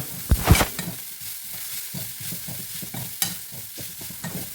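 Tomato fish curry being stirred in a covered pan, with a couple of loud scraping stirs at the start, then soft intermittent stirring and a low simmering sizzle, close up with no talking.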